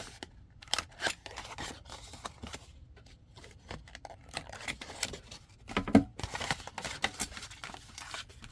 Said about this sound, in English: let's round the corners. That gives, round the corners on our flap.